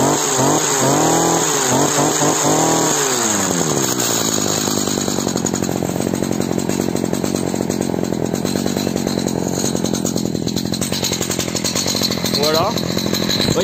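A Stihl HS 45 petrol hedge trimmer engine, warmed up, runs close by with a loud buzzing two-stroke drone that revs up and falls back to a steady idle, and someone speaks over it.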